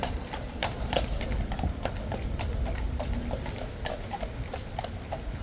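Steady clip-clop of horse hooves on a hard surface, close and rhythmic, with several hoofbeats per second over a low rumbling background.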